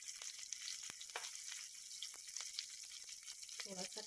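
Curry leaves, cumin and green chilli fry in oil for bun dosa, a soft, even sizzle dotted with small crackles and pops, fairly faint throughout.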